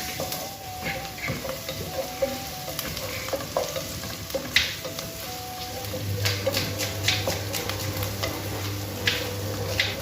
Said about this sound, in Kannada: ಈರುಳ್ಳಿಯ ಬಣ್ಣ ಸ್ವಲ್ಪ ಚೇಂಜ್ ಆಗುವವರೆಗೆ ಫ್ರೈ ಮಾಡಬೇಕು